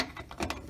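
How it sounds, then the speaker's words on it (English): A ratchet clicks while tightening a fitting during LED switchback foglight installation on a Nissan 350Z, giving a few quick, close, moderately quiet mechanical pawl clicks with no talk. "grab my ratchet here"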